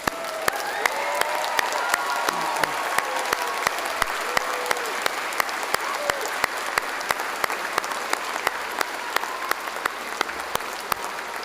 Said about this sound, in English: How about a round of applause for your whānau and friends?